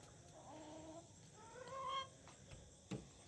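Chickens cluck softly a few times nearby, quiet, rising calls against a faint background.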